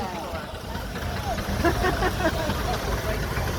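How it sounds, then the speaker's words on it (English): A steam traction engine pulling a road train rumbles along at a walking pace, a low steady chugging close by with voices talking over it. "We've got the engine behind that is in steam, but it only goes 2 miles an hour."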